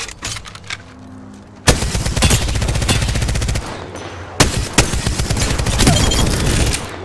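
Rapid automatic gunfire from the video game Apex Legends, loud and close, with short bursts early on followed by long sustained strafing and heavy impacts.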